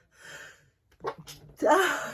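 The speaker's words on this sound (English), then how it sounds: "I'm about to sneeze." A person sneezes close by: a soft breathy intake, a short pause, then a sharp burst followed by a longer loud exhale.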